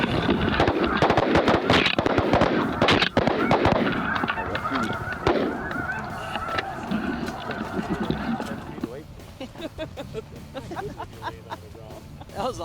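A flock of snow geese honks loudly and continuously while coming into decoys on an Arkansas hunt, a dense overlapping clamor that thins and fades toward the end, with voices mixed underneath.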